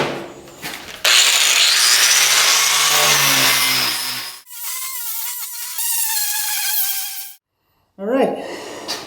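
A power tool scrubs rust off a griddle in a loud sustained grinding rasp that shifts in pitch, dropping out briefly before starting again, close and harsh.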